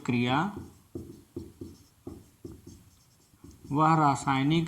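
Chalk or marker taps and scratches on a board during a class 10 chemistry lesson, a series of short strokes in a quiet gap between a man's speech at the start and end.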